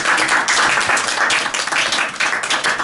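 Applause for a trainee in a training session, a small group clapping steadily and fairly close throughout the short burst.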